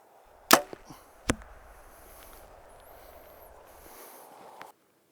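Sharp thwack of a bow releasing an arrow, then a second impact shortly after, followed by quiet outdoor ambience and a faint tap.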